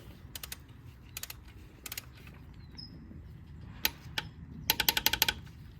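Torque wrench tightening the timing chain tensioner bolt with a 27mm six-point socket on a Mini Cooper S N18 engine, giving a few quiet ratcheting clicks, then a denser run of sharp clicks near the end, heard close in a quiet space.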